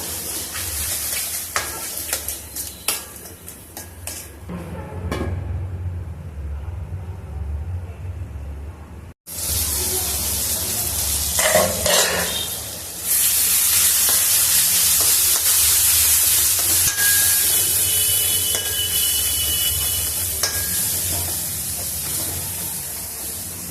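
Goat head curry simmers and sizzles in a pan, a loud, steady hiss and bubbling that runs almost throughout, with scraping stirs early on and a brief quieter gap before the sizzle swells again.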